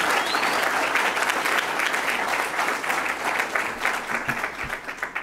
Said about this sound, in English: Let's give Treasurer Frerichs a big round of applause.